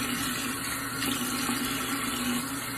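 Steady running water from a tap while a head is dunked under it to wash wavy curly hair, a continuous close rushing flow with no talking.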